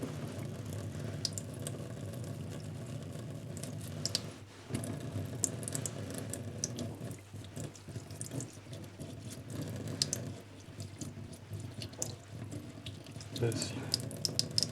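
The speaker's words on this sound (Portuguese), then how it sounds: "com um fio de água, só mesmo um fiozinho de água e uma escova de dentes, vamos eliminar o gesso que está em cima dos dentes de acrílico" A thin trickle of tap water runs steadily while a toothbrush scrubs plaster off acrylic denture teeth and wax, a continuous close wash with small scraping and handling noises.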